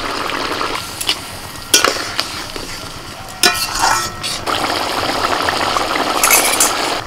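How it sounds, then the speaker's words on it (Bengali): Whisked sour yogurt with fried spices goes into a kadai of mostly boiled mutton for kosha mutton: a steady sizzle with several sharp stirring scrapes and spoon clatters near the pan, no talk. "এবার এর মধ্যে আমি ভাজা মশলা দিয়ে ফেটানো টক দই দিয়ে দিচ্ছি"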